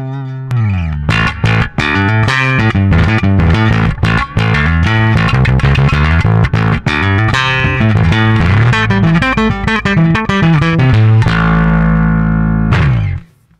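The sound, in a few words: bass guitar through distortion EQ pedal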